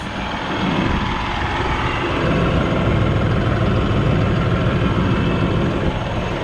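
A steady, low engine rumble from a New Holland T3.70B common rail tractor runs throughout at an even, fairly loud level, like a heavy vehicle idling close by.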